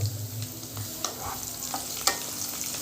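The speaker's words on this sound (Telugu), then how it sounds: "ఆనియన్ ఒకటి, జీలకర్ర, ఆయిల్ మంచిగా ఇవన్నీ మంచిగా ఫ్రై అవ్వాలి" Onion and cumin fry in oil with a steady soft sizzle, stirred at intervals by a spoon scraping and tapping the pan, close and moderately quiet.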